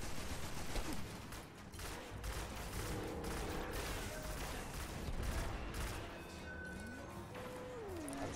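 Rapid gunfire from a video game, shooting a robot, crackles in dense bursts throughout, mixed with game effects and background noise.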